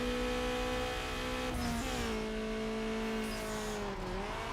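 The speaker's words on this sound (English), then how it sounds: "I can definitely say this car sounds different compared to what it was before." A tuned Eclipse car engine revs loud and steady in Need for Speed: Underground on PS2, its pitch dropping sharply at gear shifts and then climbing again, with no talking.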